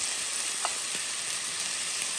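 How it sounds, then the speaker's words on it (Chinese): Chicken stir-fried with scallion and ginger in a hot wok gives a steady, bright, close sizzling hiss, with a couple of faint clinks as it is stirred. "炒出葱姜的香味儿。"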